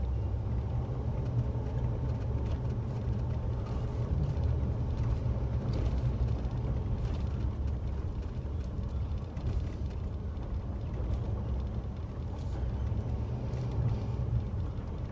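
A car drives along a parallel street near Slab City, its engine and road rumble forming a steady, fairly loud low drone from start to finish, with no talking.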